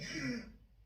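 A single throat clearing close to the microphone, a short rough burst fading out within about half a second, with no speech.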